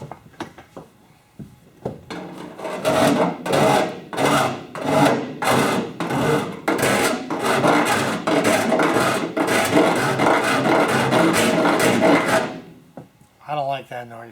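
A big round file rasps against aircraft skin on a Sonex kit plane build, in a series of loud, rhythmic back-and-forth strokes that run for about ten seconds before stopping.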